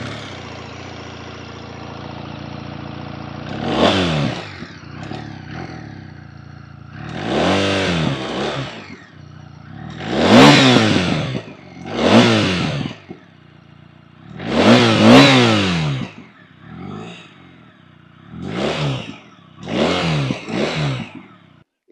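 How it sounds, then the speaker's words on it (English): A BMW R1300 GS boxer engine fires up and revs through its exhaust in a series of loud, rising and falling blips, about eight throttle bursts with short idle gaps between them, heard alone without talk. "let's fire the engine up and listen to its exhaust"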